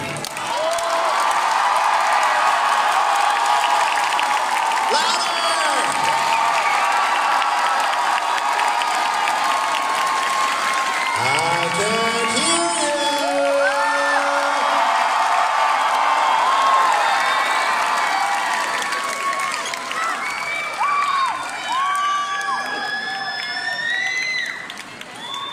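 Crowd at an anime convention closing ceremony cheering, whooping and applauding loudly and continuously, with high shrieks and shouts scattered throughout, and no pause until a slight easing near the end.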